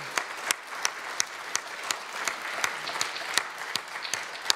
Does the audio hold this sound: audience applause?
yes